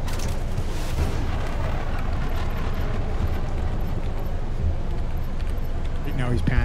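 Weapons fire in a space strategy video game skirmish, a dense, continuous barrage of booming blasts and rumbling impacts filling the whole stretch, with small high chirps scattered on top.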